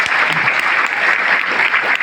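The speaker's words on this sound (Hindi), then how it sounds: "प्लीज इनके लिए एक जोरदार ताली।" Audience applause at a DXN business success event in Doha, Qatar: dense, steady clapping from a crowd, loud and continuous with no voices over it.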